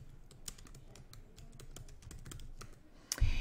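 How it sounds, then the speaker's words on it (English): Quiet, rapid keystrokes on a computer keyboard tap out in an irregular rhythm for a few seconds, close and soft, ending with a louder thump. "So I'm just going to type that in."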